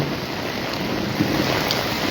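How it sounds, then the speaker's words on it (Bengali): Heavy rain and strong wind roar outdoors in a broad, continuous wash of noise, steady and loud throughout with no voices. "বৃষ্টি অনেক বেড়ে গেছে বেশিক্ষণ থাকা যাবে না মনে হয় বাতাসও বেড়ে গেছে"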